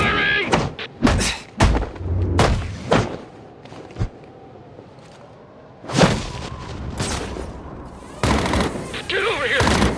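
Gunshots and heavy thuds from the video game Batman Arkham Origins, fired in scattered loud bursts with quieter stretches between them. Voices are heard among the shots.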